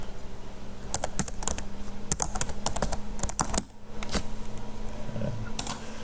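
Slide text goes in on a computer keyboard: quick, close, irregular clicking keystrokes with a brief pause partway through, over a low steady hum.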